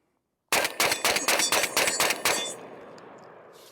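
A Beretta 1301 shotgun fires about eight rapid, evenly spaced blasts, loud and close, each sharp report running into the next before a fading echo.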